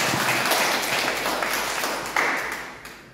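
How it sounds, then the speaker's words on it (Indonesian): Church congregation applauds with brisk, dense clapping that gradually tapers off, with a brief swell partway through before fading. "Tepuk tangan untuk Tuhan Yesus."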